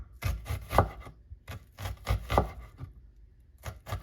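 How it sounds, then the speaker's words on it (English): A medium onion being thinly sliced with a knife on a cutting board, close crisp chopping taps in quick bursts of three to five strokes with short pauses between, no talking. "Also going to thinly slice a medium onion."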